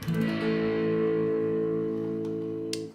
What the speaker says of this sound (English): usually with distortion, a full bar chord